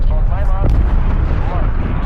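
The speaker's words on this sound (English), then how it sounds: "Cruise missile inbound." A heavy, rumbling Call of Duty cruise missile explosion fills the clip, with a sharp burst partway through and a sustained low roar throughout.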